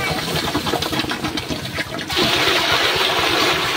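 Water splashes and pours in a basin, changed out to cool containers of nipa wine (lambanog) being made, a close gushing rush that grows fuller and steadier midway, with no talk.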